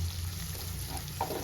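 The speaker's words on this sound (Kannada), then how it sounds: "ಸೊ ಬಟಾಣಿ ಒಂಚೂರು ಫ್ರೈ ಆಗಲಿ" Fresh green peas fry in a pan for paneer butter masala, with a soft, low sizzle and a brief scrape of stirring near the end.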